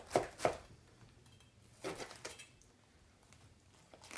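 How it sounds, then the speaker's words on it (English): A knife crunches through firm cabbage, cutting out the center core, in a few sharp cuts, two quick ones then a couple more after a pause, close and fairly quiet. "So I'm going to cut out the center."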